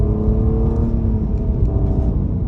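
A car with a CVT accelerates at half throttle, its engine holding a steady, loud, near drone with a rising whir and no pauses.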